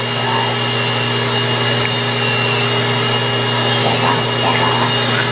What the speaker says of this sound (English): this is a drill and it's gonna smooth and thin out everything over here.